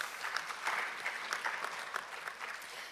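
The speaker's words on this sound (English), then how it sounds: "Please give Mr. Martin Adolf a round of applause." An audience at an AI-for-industry conference applauds as a panel member is welcomed, producing a brief, even burst of many hands clapping at moderate volume with slight swells in the patter.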